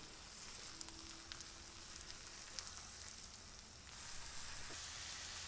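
Ribeye steaks frying on a Blackstone flat-top griddle: a quiet, steady sizzle with faint scrapes and taps as the meat is flipped, the hiss growing slightly louder near the end, with no voices.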